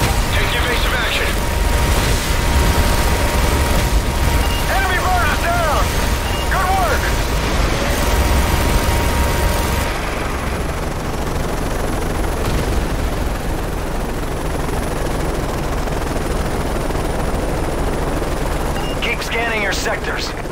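Heavy gunfire, explosions and a helicopter in the Call of Duty Modern Warfare video game, dense and loud throughout, with voices shouting over the battle.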